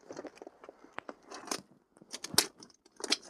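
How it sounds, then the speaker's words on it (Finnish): Scissors snipping and cutting open a Christmas gift package of car parts for a Ford Focus, giving a series of sharp, close clicks and crinkly rustles at an irregular rhythm, with no talking. "Tossa on sakset."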